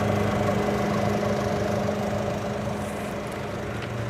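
The chassis engine of a 2025 Winnebago Navion 24T motorhome idles with a steady, low rumble and even hum, close by and unchanging for a few seconds.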